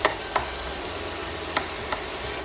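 Fresh spinach cooking in a pan with eggs, a soft steady sizzle with a few light clicks of a utensil against the pan.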